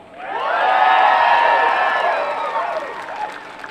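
Big political rally crowd in Fort Worth cheering and shouting, a loud swelling roar of many voices with whoops, sustained for several seconds before easing slightly.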